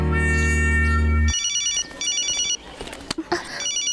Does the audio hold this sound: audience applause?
no